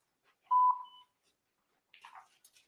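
A single bright electronic voicemail beep sounds clearly after a greeting, a steady tone lasting about a quarter second, followed by a brief pause and faint, muffled speech.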